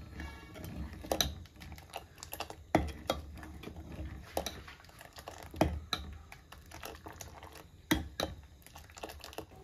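A spoon stirs sugar into a milk and custard mix for bread custard pudding, giving irregular clinks and scrapes against the bowl over a steady low background, with no talking.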